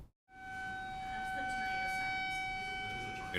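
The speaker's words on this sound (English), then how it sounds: "You likely heard the outdoor warning sirens go off." After a brief silence, a loud sustained warning siren wails steadily outdoors, a long unbroken tone that swells slightly.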